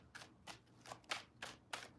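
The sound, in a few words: shuffling tarot cards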